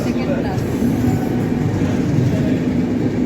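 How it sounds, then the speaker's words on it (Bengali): The Ajmer Express rumbles at a busy railway station with a steady, heavy low drone, while voices talk nearby over the constant rail noise. "এই ট্রেনটাতে আমরা যাব আজমির এক্সপ্রেস"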